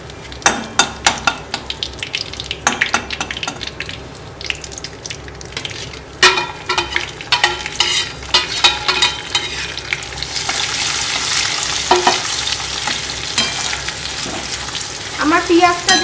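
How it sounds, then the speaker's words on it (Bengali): Onion frying in a pan with cumin and bay leaf, with a loud continuous sizzle and frequent stirring scrapes and clatter that build into a bright crackling hiss in the second half. "মশলাটা হয়ে গেলে, মানে জিরে আর তেজপাতাটা ভাজা হয়ে গেলে আমি এই পেঁয়াজটা এবার এর মধ্যে দিয়ে নেব।"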